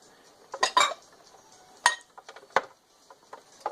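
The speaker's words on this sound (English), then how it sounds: "Close the lid" A George Foreman grill's lid is folded shut over thin steak, giving a few light, close metallic clunks and clinks spaced out over a few seconds with quiet between them.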